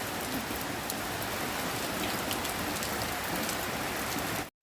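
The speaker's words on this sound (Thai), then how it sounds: "ฝนมาแล้วค่ะพี่น้องค่ะ" Heavy outdoor rain pours in a constant broadband wash, even and close, before cutting off abruptly at the end.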